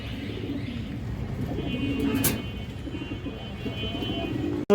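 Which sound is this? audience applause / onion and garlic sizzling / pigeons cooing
pigeons cooing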